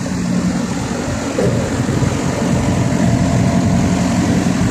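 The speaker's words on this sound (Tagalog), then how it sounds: "Ingay ng makina yan." A reefer trailer's refrigeration engine runs at a loud, steady drone with a low rumbling throb, continuous throughout with no talk.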